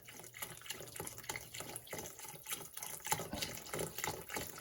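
Chicken stock pours from a carton into a cooking pot where chicken is already cooking, a quiet steady liquid gush with soft splashing and bubbling that continues for several seconds with no talking.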